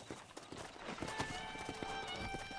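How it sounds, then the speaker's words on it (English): Horse hooves clip-clopping while a horse is broken in Red Dead Redemption, with a whinny and busy game sounds throughout, steady and fairly loud. "the horse breaking"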